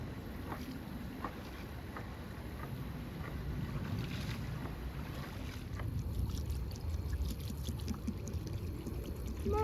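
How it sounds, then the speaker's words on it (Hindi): Spinach is washed in water outdoors, with soft continuous splashing and sloshing under steady wind noise; faint scattered clinks and drips are heard, with no talking. "पहले पालक धो लें।"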